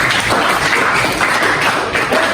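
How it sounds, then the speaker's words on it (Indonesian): Classmates clapping for a student in a school lesson, a short, continuous burst of many hands close by, fairly loud and unbroken for a couple of seconds. "Kasih tepuk tangan untuk kamu."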